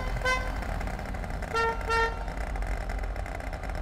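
A small moped horn honks a few short times, with a quick toot then a double beep, over a rumbling engine.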